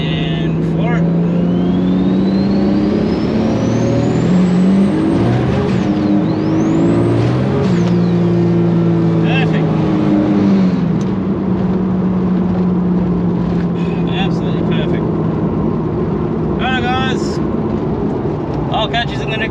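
A turbocharged Toyota Supra fitted with Bosch Motorsport 2000cc injectors accelerates at full throttle in third gear, its engine note rising loud and steady with a whining turbo sweep, continuous and close throughout.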